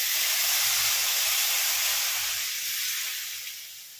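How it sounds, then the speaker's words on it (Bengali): Lukewarm water poured into lentils and bean seeds frying in a pan sets off a loud, close, steady steam hiss that slowly fades away. "দেবো হালকা গরম জল।"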